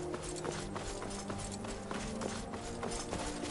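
Horse hooves clip-clopping in Skyrim, a steady rhythmic trot of hoofbeats over a continuous game background, moderately close and alone without talk.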